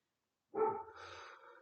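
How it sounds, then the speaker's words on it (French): A single dog bark at low volume in a quiet indoor room, a short sharp onset trailing into a brief whine-like tail. "Je suis désolée pour le fond sonore du chien qui aboie"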